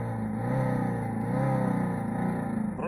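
Cheap sound emulator fitted to an electric motorcycle, throttle applied while standing still: a synthetic engine drone rising and wavering in pitch through a speaker, steady and close, with no talking.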